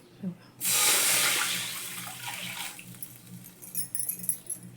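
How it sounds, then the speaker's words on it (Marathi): Water is poured into a kadhai in a home kitchen. A sudden loud, splashing gush runs for about two seconds and then trails off into quieter trickling and faint kitchen noise. "ह्या कढईतच पाणी घालते मी"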